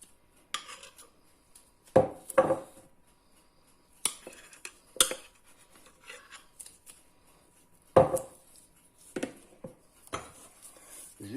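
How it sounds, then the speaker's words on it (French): A spoon scrapes leftover corn-and-flour bread dough from a pot in short, intermittent bursts of scratching and clattering, separated by quiet pauses. "J'utilise la cuillère pour gratter ce qui reste dans le pot."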